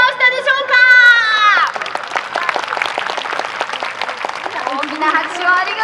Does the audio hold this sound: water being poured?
no